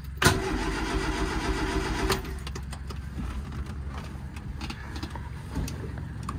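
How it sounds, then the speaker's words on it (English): A Lotus Elan car engine is cranked by the starter with a steady rapid churning for about two seconds, then an uneven rumble carries on, close by. "Just see if it'll crank. Yep. Cranking beautifully."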